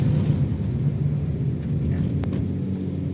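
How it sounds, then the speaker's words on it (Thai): A Toyota Yaris Ativ engine drones low and steady under hard acceleration, heard from inside the car with a rushing, windy roar around it. "อันนี้คือเสียงของตัว เครื่องยนต์เวลาที่เรา กดคันเร่งหนักๆนะครับ"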